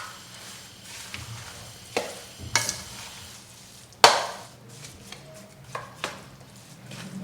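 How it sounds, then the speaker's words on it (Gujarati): Jaggery being stirred into a flour mixture for adadiya, with the heat off: scattered scraping and tapping strokes of a spoon against the pan, a few sharper knocks, close and fairly quiet, with no talk. "ગોળ નાખ્યા બાદ બધું સારી રીતે મિક્સ કરી લઈશું."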